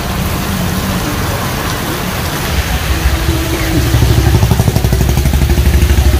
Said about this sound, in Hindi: देखो मूसलाधार बारिश हो रही है